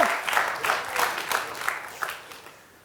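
A small group claps in a brisk, steady rhythm for a couple of seconds before the clapping fades out.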